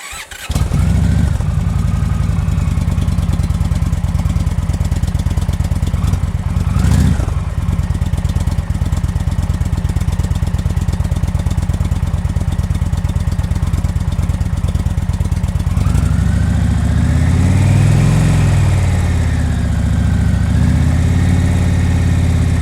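An Indian Thunder Stroke 111 motorcycle engine runs loud and close at a steady 2,500 RPM, a deep continuous rumble with a short dip and a swell in pitch later on.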